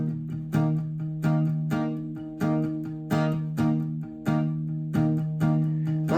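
Steady strummed chords on acoustic guitar carry the verse of a song, each stroke ringing close and full in a regular rhythm, with no voice over the playing.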